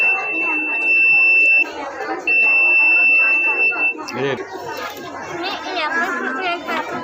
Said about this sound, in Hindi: ये बजर है इससे बैटरी से करंट पास होता है इसलिए बजर बजर